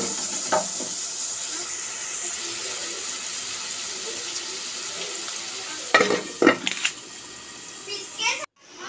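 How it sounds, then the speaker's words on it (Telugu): Onions and tomato pieces frying in a pan, a steady soft sizzle with a few louder stirring scrapes near the end, close by; faint voices in the background. "ఉల్లిపాయలు లైట్ బ్రౌన్ కలర్లో వచ్చిన తర్వాత కట్ చేసి పెట్టుకున్న టమాటా ముక్కలు కూడా వేసుకోవాలి"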